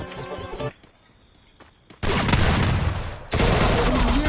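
Gunfire in the Free Fire mobile battle game: a brief burst, a near-silent pause, then loud, dense automatic fire that continues in two sustained volleys to the end.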